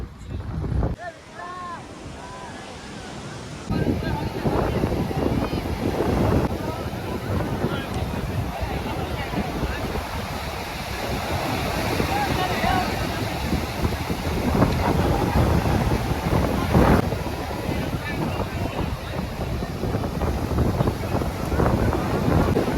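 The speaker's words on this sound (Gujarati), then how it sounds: "ખરેખર આજે ભાઈ કરંટ બહુ છે દરિયામાં ભાઈ ફૂલે ફૂલ પાવરમાં છે" Rough sea surges against the shore near Diu on a stormy, flooded day while wind blasts the microphone, making a loud, continuous roar with swelling wave rushes throughout.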